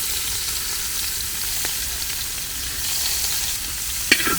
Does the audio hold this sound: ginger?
yes